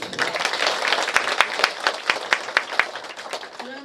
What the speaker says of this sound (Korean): 환호와 큰 박수 부탁드립니다